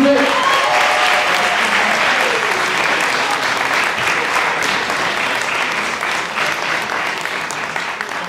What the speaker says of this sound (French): je vais leur faire un max d'applaudissements s'il vous plaît